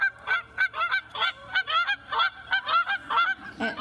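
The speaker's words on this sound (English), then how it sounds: "it tells you what a goose sounds like" A recorded goose honks repeatedly in short, loud, nasal calls, one after another in an irregular rhythm, close and clear with no talk over it.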